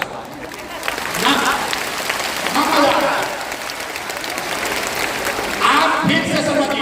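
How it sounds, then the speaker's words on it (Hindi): Audience applause at a women's gathering in Bapu Sabhagar hall, Patna, clapping in uneven bursts that rise and fall across the room, with a voice speaking over parts of it. "अगर बुझाता तो ताली जोर से बजता ना।"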